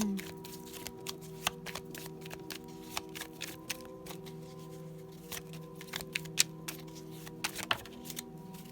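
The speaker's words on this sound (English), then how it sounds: "Do a card flip." Tarot cards being shuffled and flipped: close, crisp riffles and sharp snapping flicks at irregular intervals over a steady low hum, with no talking.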